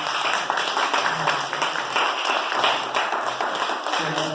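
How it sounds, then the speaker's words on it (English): Applause for Kerry Wallace at the Ital Fest launch at Devon House: a dense, steady patter of many hands clapping for the full few seconds, with a voice faintly underneath. "Round of applause once again, please."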